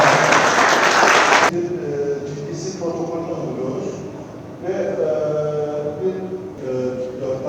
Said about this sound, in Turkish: bir kez daha alkışlarımızı